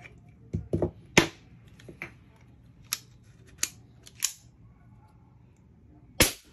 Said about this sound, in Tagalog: Sige, paputukin natin ng walang silencer.